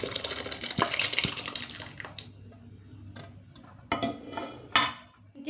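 Cooked lentil water is poured from a vessel into a pot of vegetable sambar, giving a loud gushing splash and clatter of metal cookware, followed by softer knocks and a final pouring rush.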